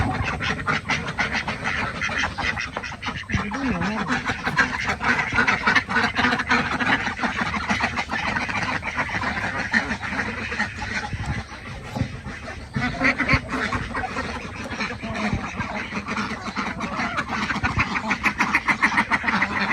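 A farmyard flock of Muscovy and common domestic ducks quacks steadily and densely throughout, a continuous loud chorus with no break and no talk.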